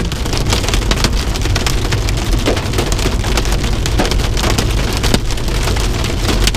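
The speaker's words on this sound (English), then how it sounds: "Here we go with the hail again." Dense, steady pelting of hailstones striking surfaces during a storm in Nebraska, a loud continuous clatter with occasional sharper hits, no voices.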